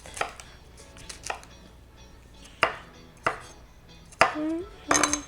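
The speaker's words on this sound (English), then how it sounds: "I'm gonna chop them like pretty small." A knife chops vegetables into small bite-sized pieces on a cutting board for a quinoa avocado salad, a handful of sharp, separate knocks spaced irregularly, close by and fairly quiet.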